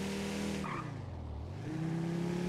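Car engine and tires in a GTA V roleplay server drive, a steady droning motor with shifting pitch as it accelerates and eases off, loud and continuous with no talking.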